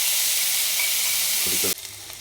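Chopped tomatoes sizzle loudly in a hot pan with curry leaves while making puffed rice upma, a bright continuous frying hiss with faint stirring scrapes that suddenly drops to a quieter simmer near the end.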